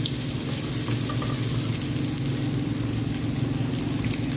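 Pancit noodles sautéing in a pan give off a loud, continuous close sizzle and crackle that holds steady throughout with no talking.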